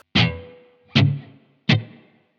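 Electric guitar played through a Blackstar Amped 1 with spring reverb, three loud struck chords, each ringing out and decaying with a splashy reverb tail before the next, no talking.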